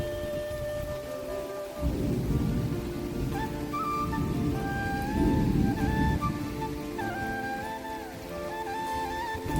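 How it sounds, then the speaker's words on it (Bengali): Heavy rain pours outside a home, a dense, steady roar with low rumbling swells like thunder, while faint tonal sounds drift over it throughout. "বাইরে প্রচুর বৃষ্টি হচ্ছে"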